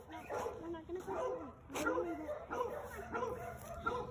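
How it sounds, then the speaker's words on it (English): Angry dogs bark and yip in short repeated bursts at a moderate distance, mixed with whimpering, while people talk over them. "We angered some dogs"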